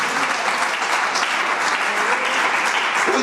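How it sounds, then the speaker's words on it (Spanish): Church congregation applauding, a dense, steady burst of many hands clapping at close range without a break. "Denle un aplauso, él es bueno."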